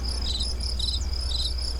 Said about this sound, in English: You can hear the crickets and stuff.